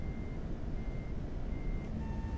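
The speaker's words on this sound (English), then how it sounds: "listen to the inside beeper" Inside the cab of a truck in American Truck Simulator, a reversing beeper sounds as a faint, steady tone that repeats over a constant low engine rumble.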